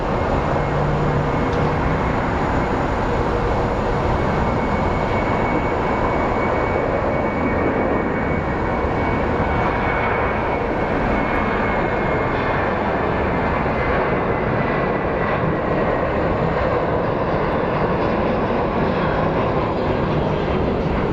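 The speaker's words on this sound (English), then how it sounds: "let's watch this Southwest depart" A Southwest airliner's jet engines roar loudly in a steady, broad rumble as it departs Phoenix Sky Harbor airport, a constant powerful drone filling the whole stretch with no voices.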